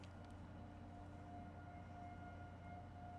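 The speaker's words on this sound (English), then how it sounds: "We can hear the active sirens going on outside" Tornado warning sirens wail outdoors in West Michigan during severe storms, a steady sustained tone heard faintly from a distance over a low rumbling background.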